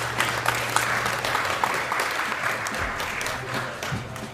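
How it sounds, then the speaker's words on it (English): A live audience at a charity speedrun marathon applauds steadily, a dense, even wash of clapping that holds for several seconds without talk over it. "thank you for the claps"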